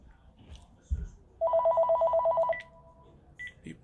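A telephone rings in one sustained electronic burst of rapid pulses lasting about a second, fairly loud and close, with a few soft knocks before it and faint higher tones after.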